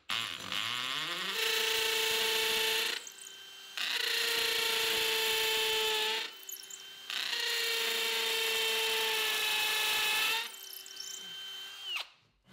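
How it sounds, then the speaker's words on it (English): Hammer drill with a masonry bit boring through a wooden sole plate into a concrete foundation, in three loud sustained bursts with short pauses between them and no talking. "I'm going to drill through the sole plate into the foundation."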